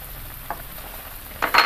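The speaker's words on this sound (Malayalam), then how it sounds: "അരപ്പ് നന്നായിട്ട് തിളച്ചിട്ടുണ്ട്" Masala paste for a bean masala curry boils in a pot, a soft steady bubbling broken by a couple of louder splutters toward the end.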